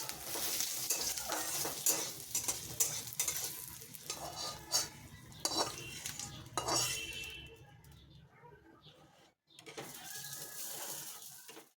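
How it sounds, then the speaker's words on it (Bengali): Black cumin and onion tempering stirred in a metal pan, with clinking spoon scrapes against the pot over a soft sizzle, irregular and close, ending in a brief pause and a final few stirs. "ওই ফোড়নের কালো জিরে পেঁয়াজটা নাড়াচাড়া করে গামলার মধ্যে দিয়ে দিলাম"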